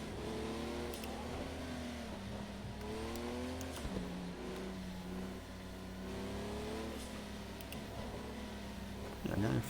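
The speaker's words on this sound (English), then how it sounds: "Listen at the tires squealing." Race car tires squealing in a racing game such as Project Cars 2 or Dirt 2.0: wavering, pitch-sliding squeals over a steady engine drone, with a brief clatter near the end.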